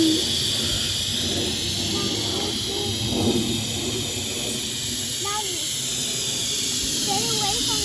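Steam hisses steadily from freshly finished cooking, a dense, constant rush that fills the whole clip. Faint voices murmur underneath.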